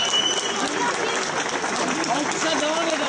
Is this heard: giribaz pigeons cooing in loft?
no